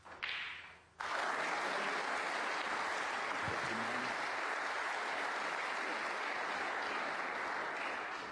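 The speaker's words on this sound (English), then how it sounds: "Applause about to ring out from the other table." At a snooker quarter-final, applause swells from the other table's audience, a steady crowd clapping that starts abruptly after a quieter moment and holds at an even level, somewhat distant.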